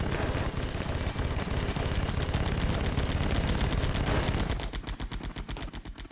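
Sustained aircraft machine gun fire in the Air Conflicts: Vietnam video game, a dense rapid rattle over engine drone, thinning into distinct spaced bursts near the end.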